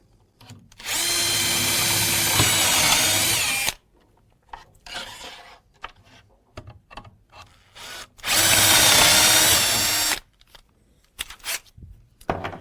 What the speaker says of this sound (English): drill at a depth of 10 mm with a 6 mm drill bit